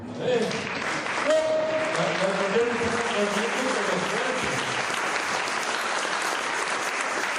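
A church congregation claps steadily for several seconds, a dense, sustained round of applause with voices mixed in near the start.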